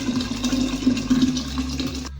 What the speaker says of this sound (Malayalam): ഇനി ഇത് കുപ്പിയിലേക്ക് മാറ്റാം.